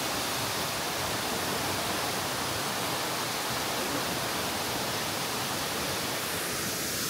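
A waterfall pouring over large rocks, a steady, loud, unbroken rush of water that fills the whole stretch without pause and is heard on its own with no voices.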